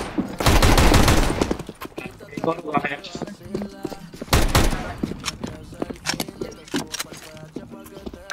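TEC-9 pistol gunfire in Counter-Strike: Global Offensive, with loud bursts of rapid shots near the start and middle and scattered single reports between, mixed with in-game clatter.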